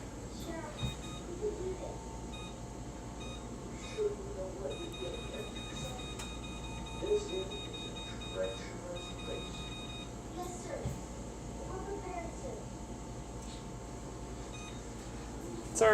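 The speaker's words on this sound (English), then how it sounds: "I'm going to set a timer." A kitchen timer beeping in a home kitchen while a pound cake bakes, producing steady tonal beeps over a long stretch against room noise, with faint talk in the background.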